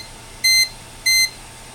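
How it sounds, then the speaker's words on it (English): Alarm beeps from a PC fan controller signalling a failed side panel fan: two loud, high electronic beeps of about a quarter second each, evenly spaced, with a quiet steady hum between them. "it is alarming that that fan has failed"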